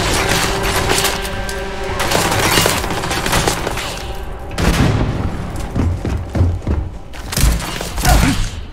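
Shotgun fire in the Starfield video game booms in heavy, repeated blasts amid loud combat noise, with thudding impacts and cracks coming in uneven bursts, close and dense throughout.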